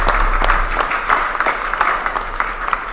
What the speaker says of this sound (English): So let's have a round of applause for those folks.